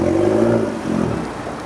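A Mazda Miata pulls away at an Arizona car show, its mid-pitched engine note loud and close at first, then easing off slightly as it leaves, with a steady whir and clatter throughout.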